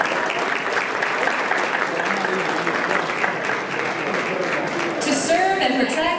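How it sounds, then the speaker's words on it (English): A community crowd applauds Amarillo police officers helping at a homeless meal event, a thick, continuous wash of clapping with a voice faintly heard toward the end. "Yeah, give them a round of applause."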